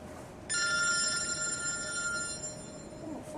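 A telephone rings loudly with a steady electronic bell tone that starts abruptly and holds for about three seconds in a quiet room.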